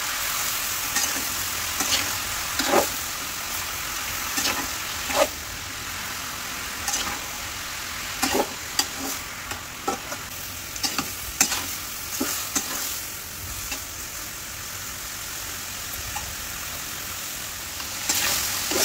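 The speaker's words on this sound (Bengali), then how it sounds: "এইবার নেড়ে চেড়ে একটু তেলের মধ্যে ভেজে নেব।" Snake gourd stirred and fried in oil in a pan, with a constant soft sizzle under repeated sharp scrapes and clinks from the spatula at irregular intervals.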